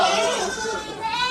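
Malabari goats bleat at a goat farm, close and clear, wavering calls overlapping one another with no talk over them.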